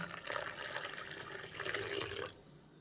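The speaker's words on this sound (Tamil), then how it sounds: "இப்போ அது கூட தண்ணி கலந்துக்கலாங்க." Water poured and stirred into freshly ground amla (Indian gooseberry) juice with a little salt, a steady splashing, running-water sound at close range that cuts off abruptly near the end.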